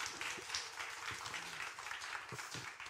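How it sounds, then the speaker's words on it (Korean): An audience applauds at a church gathering, with steady, moderately distant clapping throughout and a low hum of voices underneath. "박수 한번 드리세요."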